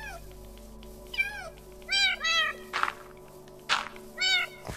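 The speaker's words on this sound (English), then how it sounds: "I'm gonna have fun with those cats and have so many kittens." Several cat meows from Minecraft on PlayStation 4, about six short harmonic calls spread across a few seconds, close and clear, with a couple of brief sharp thuds between them and a steady game tone underneath.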